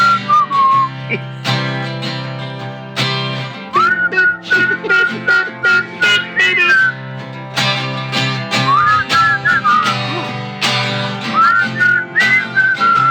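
A person whistles a lilting tune over loud music, the melody rising and falling in bright, clear phrases.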